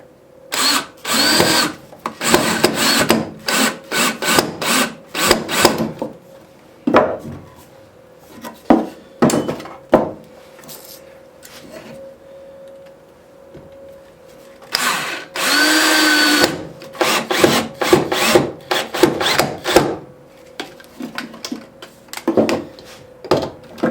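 A power drill drives wood screws into pilot holes while building a fishing rod holder, several loud whirring bursts with pauses and wooden clunks between them, close up.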